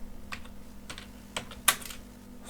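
Sparse, light keystrokes on a computer keyboard, a handful of soft taps spread unevenly with one sharper clack, close and quiet over a faint electrical hum.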